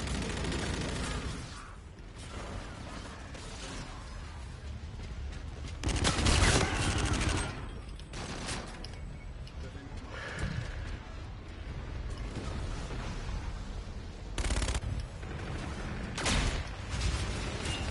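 Video game gunfire rattles in bursts at a low level, as bursts of shots and crashing impacts rise and fall over a dense, continuous battle din.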